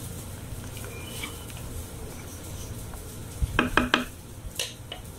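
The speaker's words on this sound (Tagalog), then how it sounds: "Tapos, haluin natin." A spoon stirs sinigang na isda, a sour fish soup, in a pot, making faint background noise and then a short burst of clinks and scrapes against the pot's side before it settles.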